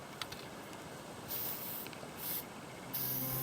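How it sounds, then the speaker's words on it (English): Plasti Dip sprays from an aerosol can onto a truck tool box in three short hissing bursts, quiet and close, with a faint background between bursts. "Do one little final spray"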